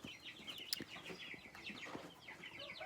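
Baby meat-bird chicks kept in a garage peep in a busy flurry of high, repeated chirps, several birds calling over one another at close range.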